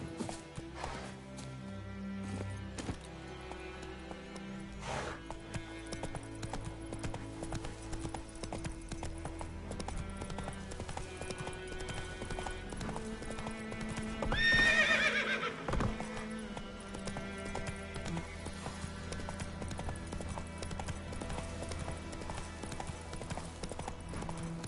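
The horse Roach in The Witcher trots with steady, close hoof clip-clops over a musical backdrop, with one loud neigh in the middle.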